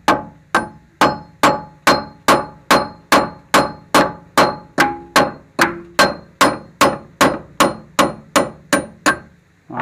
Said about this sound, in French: On va prendre la masse